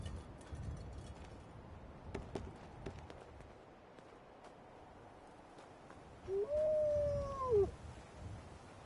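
A dog in the video game Fallout 4 gives a single drawn-out whine or howl, about a second long, over a low, murmuring game backdrop with faint thuds and no talk.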